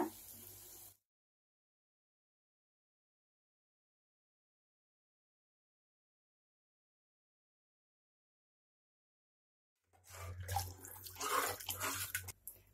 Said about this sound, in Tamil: ஒரு கப் அரிசிக்கு ஒன்றரை கப் தண்ணி ஊற்றிக்கங்க